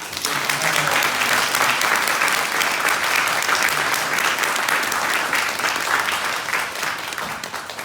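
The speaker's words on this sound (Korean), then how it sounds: "다시 한번 우리 박수로" An audience at a church education and ministry seminar gives a long, sustained round of applause, dense and even throughout, slowly tapering toward the end.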